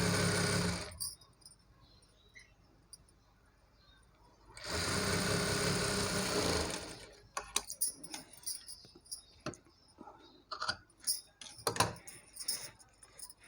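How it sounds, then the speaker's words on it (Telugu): A sewing machine stitches a saree being turned into a long frock, with a short run at the start and a longer steady burst midway, then scattered clicks and fabric handling up close. "దీనిపై నుండి చివరగా ఒక స్టిచ్ వేసేసుకుంటే మనకి ఈ ఉక్స్ పట్టి కూడా కంప్లీట్ అయిపోతుంది."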